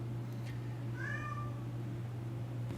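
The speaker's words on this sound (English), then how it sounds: "my cat's going crazy in the background" A house cat lets out one drawn-out meow with a rising and falling pitch, fairly faint and in the background over a steady electrical hum.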